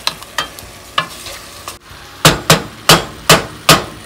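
Meat and onions fry in oil in a pot while being prepared for biryani. A loud, steady sizzle sits under a rhythmic series of sharp spoon strikes against the pot, growing stronger in the second half.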